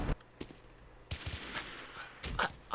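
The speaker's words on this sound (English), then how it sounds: "I'm shooting him in the freaking face with a sniper rifle" Sniper rifle shots in the low-poly online shooter BattleBit crack out as a handful of sharp, separate reports with quieter gaps between, moderately near.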